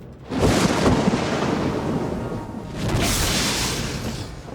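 Loud rolling thunder from a thunderstorm, with a broad rumble that swells, sustains, then surges again in a second long peal, heard alone without voices.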